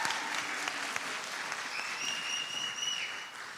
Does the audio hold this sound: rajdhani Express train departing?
no